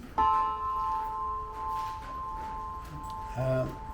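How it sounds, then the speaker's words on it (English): A traditional church-shaped European bell cast in bell metal, the type used in carillons, is struck and rings with long, steady overtones before a second strike near the end, with faint voices in the background. "So this is a traditional European bell in bell metal,"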